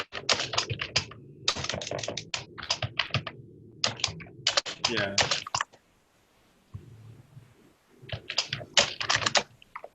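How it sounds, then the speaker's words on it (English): Bursts of typing on a computer keyboard, close and clear, with pauses between runs of rapid key clicks and a brief spoken word. "Keyboard."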